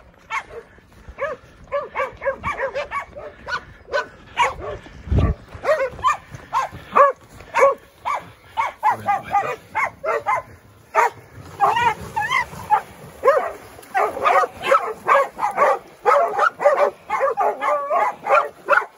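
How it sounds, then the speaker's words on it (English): Hunting dogs bay and bark fast and excitedly at a boar held at bay during a hunting competition, a dense overlapping chorus of yips and barks, close and loud, with brief pauses and a thud. "The dogs had it bailed for a bit and then it broke, and Neville's managed to shoot it"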